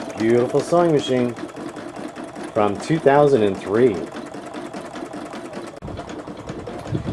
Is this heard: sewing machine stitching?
yes